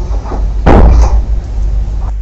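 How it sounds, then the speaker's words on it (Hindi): A door swings open on its own inside a house reported as haunted, giving a close, loud thump and rattle over a constant low rumble of background noise. "ये दरवाज़ा खुला।"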